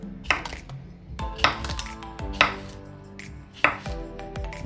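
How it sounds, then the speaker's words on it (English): Roughly chopping fresh vegetables, including cucumber, for a cucumber avocado gazpacho: four firm, crisp knife strikes against a cutting board, spaced about a second apart, close and clear with no talking. "we can just roughly chop all of our vegetables"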